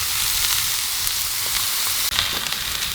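Elk burgers sizzle on a Blackstone griddle with steady, close crackling and hissing and a brief scrape partway through, with no talking.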